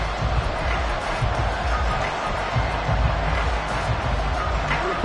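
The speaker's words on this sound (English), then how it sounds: "This crowd turning up the decibel level" A roaring stadium crowd in a Madden football video game, a dense, constant wash of loud noise with faint cheering swells, no clear voices on top.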